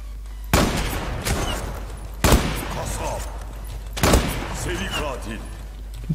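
Three sharp gunshots from an AWP sniper rifle ring out at roughly two-second intervals in the online shooter Zula, each a loud broadband crack with a brief tail over steady game ambience, with voices talking in between.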